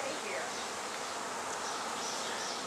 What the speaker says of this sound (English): swarm showed up while we were here.